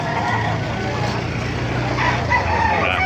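Several White Kelso roosters crow over a busy background of clucking fowl at a market, with a vehicle rumbling faintly in the distance.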